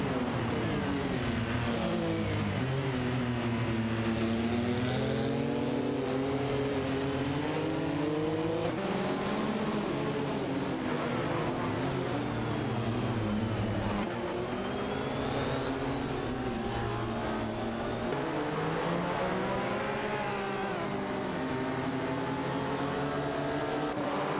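Racing cars in a video game, a Dower 962 and a McLaren GT1, droning continuously as their engines rise and fall in pitch through gear changes. The sound is steady and moderately loud, with no voices over it.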